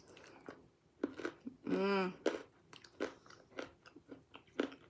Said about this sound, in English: I love the crunch that it makes in my mouth.